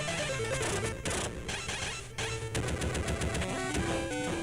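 Homing gun shots in the Operation C (Probotector) video game ring out as a rapid, steady stream of retro electronic blasts, layered over chiptune music and loud throughout.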